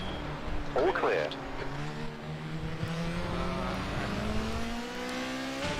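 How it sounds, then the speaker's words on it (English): Race car engine in the Automobilista sim at Sandown Raceway, a rising engine tone building as a faster car closes in and sweeps past, steady and fairly loud, with a voice speaking briefly over it. "Faster car approaching."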